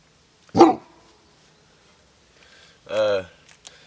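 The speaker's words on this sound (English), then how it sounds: "this is my puppy Aloha" A puppy gives two sharp, loud barks close by, the first a short yap and the second a longer bark about two seconds later, with near silence between them.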